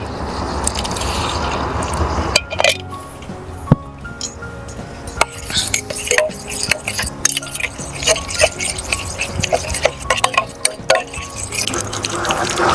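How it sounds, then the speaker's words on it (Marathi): Water added to a gram flour and yogurt batter and whisked in, giving close wet squelching, irregular clinks and scrapes of a utensil against the bowl, with a brief pouring rush at the start. "बेसन दह्यात फेटल्यानंतर याच्यातच आपण पाणी ॲड करून घेऊया आणि ते पण एकत्र मिक्स करूया"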